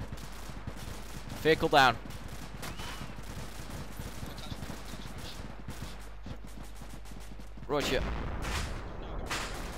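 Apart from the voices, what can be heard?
gunfire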